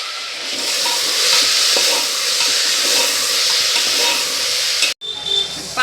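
Cumin seeds and green chillies sizzle loudly and steadily in hot oil for kadhi, a dense frying hiss that runs for about five seconds before it cuts off abruptly.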